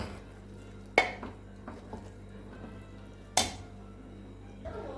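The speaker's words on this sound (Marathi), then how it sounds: "व्यवस्थित असं हे आपल्याला मिक्स करून घ्यायचं आहे." Spoon scraping and clinking against a pot while chicken biryani with ghee is turned and mixed, two sharp metallic knocks standing out over quieter scrapes and a low steady hum, no voices.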